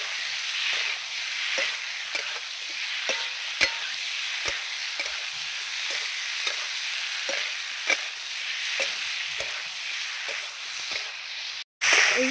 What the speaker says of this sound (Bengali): ভালো করে আমি মশলার সঙ্গে কষাবো